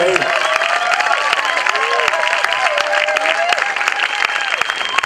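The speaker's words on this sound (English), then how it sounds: "I'd like to give them a nice, loving, warm round of applause" Festival audience applauding continuously, a dense wash of clapping with some cheering and a voice over it, steady and loud throughout.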